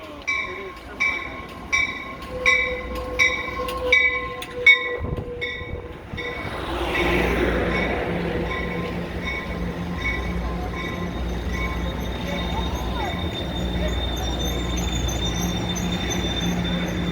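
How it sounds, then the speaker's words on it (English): Amtrak Pacific Surfliner passenger train ride: a repeated rhythmic ringing of a crossing bell at first, then a steady rumbling of rolling wheels on the rails from inside the moving train. "taking Amtrak Pacific Surfliner from Fullerton, California all the way down to Ventura, California"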